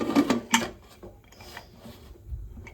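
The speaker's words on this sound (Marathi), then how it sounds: "आता मी कुकरचं झाकण लावून घेते" Brief metallic rattles and scraping as a heavy pressure cooker lid is fitted and twisted shut over vegetable pulao, close up, a few quick clunks and rubs.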